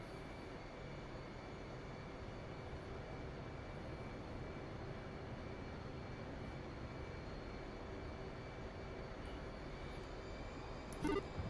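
Fighter jets spooling up and beginning a takeoff roll during a training flight, a steady loud broadband engine roar that holds constant throughout with no voices.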